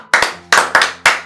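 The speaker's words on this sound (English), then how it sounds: "More clap, man. More clap." Four sharp hand claps in an uneven rhythm, loud and close, each with a quick decay, with a low steady hum underneath.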